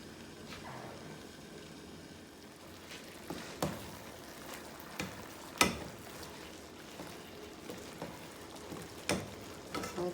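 A New York strip steak cooks under a lid in a pan on low heat, giving a soft, steady sizzle and crackle with scattered louder pops; no one speaks.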